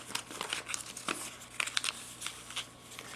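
Sheet of paper being creased and folded into a paper F-18 jet, a run of crisp crinkling crackles and sharp rustles close by, with no talk.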